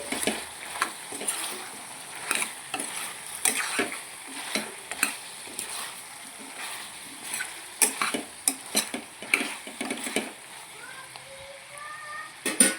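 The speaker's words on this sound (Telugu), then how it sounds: "ఇప్పుడు ములక్కలు కూడా వేసుకోవాలండి వేసుకొని ఒకసారి బాగా కలుపుకోవాలి" Drumsticks are stirred into a simmering country chicken curry: repeated uneven scrapes and clinks of a spoon against the pot, with a soft sizzle running underneath, close by and fairly quiet.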